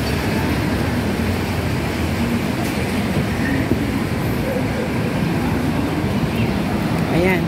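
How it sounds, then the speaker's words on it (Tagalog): A train pulling into a station platform, a steady loud rumbling roar of wheels and cars filling the whole stretch, with faint voices in the background. "Karating yung train."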